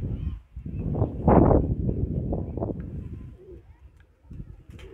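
Pigeons in a coop cooing and rustling up close, a dense murmur of low throaty calls that swells and then eases off.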